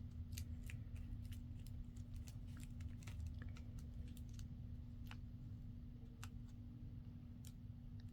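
Scissors snip steadily through a paper doily, a run of quick, crisp, fairly faint cuts over a low constant background hum.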